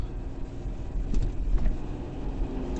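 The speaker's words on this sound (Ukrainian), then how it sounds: "Розгін впевнений, колеса не буксують" A car on Continental CrossContact RX all-season tyres accelerates on a slushy winter road, its engine rumbling close and steady with a slight surge partway through, with no one talking.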